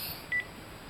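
A single short telephone keypad tone from a grandmother's phone as a child presses a button, one crisp beep against quiet room tone.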